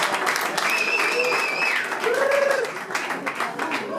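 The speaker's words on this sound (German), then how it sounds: "Machen wir einen Applaus für den Bruno" Audience applause at a stage event, steady clapping from a crowd with a few whistles and cheers rising over it, fairly close and continuous.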